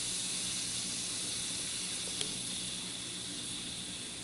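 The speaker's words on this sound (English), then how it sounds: "definitely be careful when you do this, because that's some pretty hot steam coming out of there" An Instant Pot Duo Nova releases hot steam as it depressurizes, giving a steady, broadband hiss that stays constant and fairly close throughout, with a brief faint click partway through.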